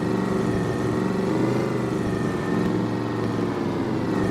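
A loud modified truck engine in a driving video game holds a steady, raspy drone close to the listener, with slight revving swells and no talk over it.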